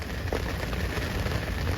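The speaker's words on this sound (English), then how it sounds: "this rain is definitely not going to stop" Steady rain falls outdoors on a solo fishing trip, a dense continuous patter on surfaces with no talking.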